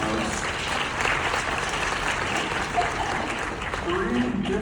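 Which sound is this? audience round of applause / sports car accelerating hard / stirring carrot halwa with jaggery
audience round of applause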